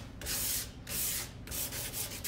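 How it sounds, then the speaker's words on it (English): Hand sanding on wood, a steady gritty rasp in three long back-and-forth strokes with short pauses between them. "that's probably enough sanding"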